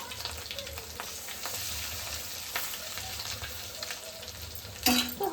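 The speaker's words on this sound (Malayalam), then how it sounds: "അടുത്ത ഇനി നമുക്ക് രോഹുവിന്റെ മുട്ട വറുത്തെടുക്കാം." Rohu fish roe frying in oil produces a close, steady sizzle with light crackling and a sudden louder sputter just before the end.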